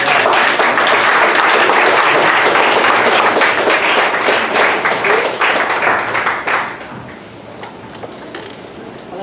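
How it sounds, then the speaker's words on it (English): Audience applause welcoming a presenter on stage at a 1 Million Cups Dallas startup event, loud and close for about six seconds, then quickly thinning out and fading to a quiet room. "give her a big round of applause, and welcome her on stage"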